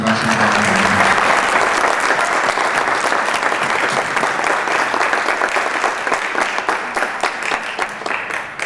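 Audience applause for a presenter at a formal regional chapter session in Autlán de Navarro, Jalisco: dense, loud, sustained clapping from a crowd filling nearly nine seconds, tapering slightly toward the end.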